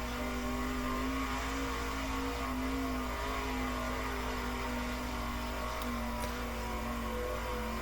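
Sprint car engine in World of Outlaws '23 droning at a steady, sustained pitch throughout a qualifying lap, fairly faint with a constant high whine and no talk.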